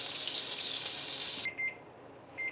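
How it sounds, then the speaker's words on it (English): A kitchen timer goes off while flour cooks into a roux for beer bacon mac and cheese: a loud sizzling hiss cuts out abruptly, leaving a couple of short, thin electronic beeps in a quiet kitchen. "my timer went off for the 3 minutes"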